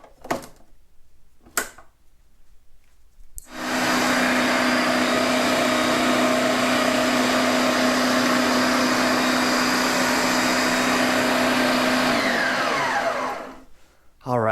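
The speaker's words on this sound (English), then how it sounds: "so I'm going to put this all back into my processor." A food processor whirring steadily for about ten seconds as it blends homemade laundry detergent to break up clumps, loud and close with a constant motor whine, preceded by a few knocks and clatters as the lid and bowl are handled.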